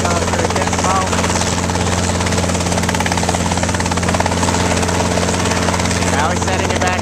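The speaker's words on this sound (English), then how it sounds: "soloing the helicopter at this moment" A helicopter flown solo by a student pilot in Utah thunders loudly and steadily with a constant rotor buzz and engine drone, close by and unbroken throughout.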